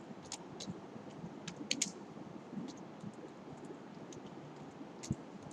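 Typing on a computer keyboard, faint and quiet, with scattered individual key clicks and a few sharper taps spread unevenly across a hushed room.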